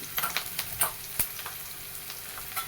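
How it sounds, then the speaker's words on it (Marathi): Onion sautéing in a pan for a spicy eggplant and potato curry, crackling and sizzling with repeated stirring clicks and scrapes, close and moderately loud, no voices. "पण कांदा परतून घ्यायचा"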